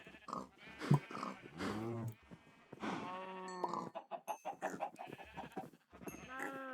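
Pigs and other farm animals around a barn in a survival video game, making a series of close, fairly loud bleating and grunting calls in quick succession with brief pauses between.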